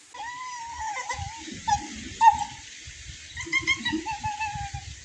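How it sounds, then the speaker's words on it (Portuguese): A trapped puppy whimpers and yips in high, thin cries along an outdoor hiking trail, several short whines spread across the moment with low rustling and handling noises beneath. "Um cachorrinho preso."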